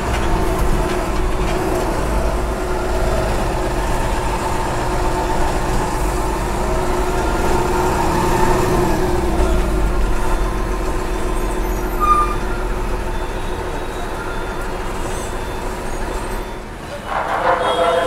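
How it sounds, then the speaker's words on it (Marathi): MSRTC ST bus pulling away after taking on diesel, its engine droning loud and steady from inside the cabin as it rolls back onto the highway, with rumble and road noise throughout. "डिझेल भरायसाठी थांबली होती गाडी, आता निघली आहे परत"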